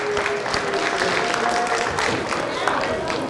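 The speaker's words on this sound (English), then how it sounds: "Nice round of applause for them again" An audience at an elementary school district community event gives a round of applause for fourth graders, a dense, steady wash of clapping that holds throughout, with voices mixed in.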